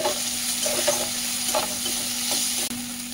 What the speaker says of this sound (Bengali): একটু ভালো করে নাড়াচাড়া করে নেব।